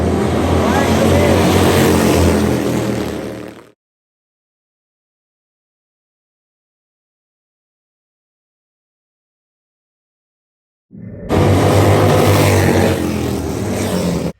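Vintage outlaw racing motorcycles at Sons of Speed, Daytona Bike Week, roar loudly up close, fall into a long stretch of silence, then roar back in at full volume.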